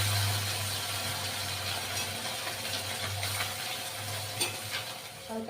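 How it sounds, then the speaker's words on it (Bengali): Continuous hiss and crackle of small chela fish frying in hot oil, with a low steady hum and occasional faint clicks underneath, no voices. "এভাবে প্রত্যেকটা মাছ ভেজে নেবো"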